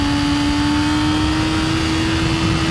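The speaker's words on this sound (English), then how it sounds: "The R6 in particular has a delicious engine." A Yamaha R6 600cc sport bike engine holds a high steady drone at speed, loud and constant with a sustained whining pitch and wind noise throughout.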